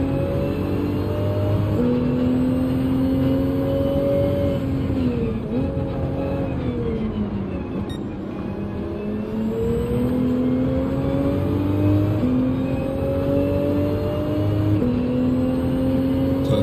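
Race car engines roaring in Gran Turismo 7, a sustained loud drone with rising and falling pitch as gears shift, holding steady with brief dips and surges throughout.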